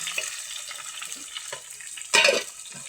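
Tomato, onion and green chilli stir-fried in a pan at home, with soft sizzling and scraping stirs that swell into one louder burst of frying near the end.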